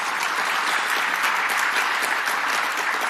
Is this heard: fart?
no